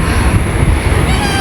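Strong wind buffets the microphone at a wide, open kite-flying spot at sunset, a dense, continuous roar throughout.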